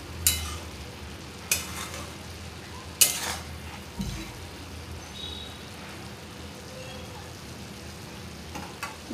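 Long beans (chawli sheng) being stir-fried in a pan for a bhaji, with a soft continuous sizzle and a few sharp scrapes and taps of a spatula against the pan, close by, with no talking.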